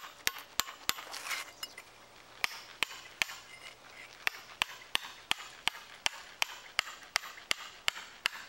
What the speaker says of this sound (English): then we'll finish it up with a hammer and chisel